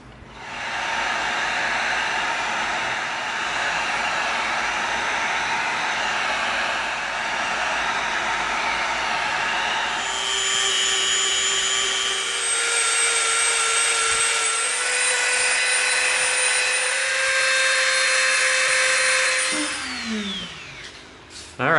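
A heat gun blows steadily and close by while EVA foam pieces are heat sealed, giving a continuous airy roar with a faint whine. Partway through, the pitch shifts slightly, and it winds down at the end.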